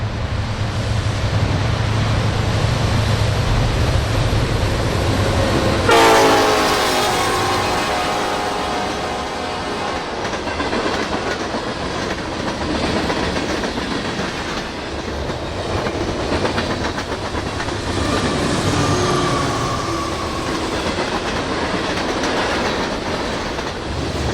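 A long manifest freight train crosses a bridge over Blue Eye Creek, giving off a steady rolling rumble with rhythmic clickety-clack from the wheels. It is loud and sustained throughout, with no voices.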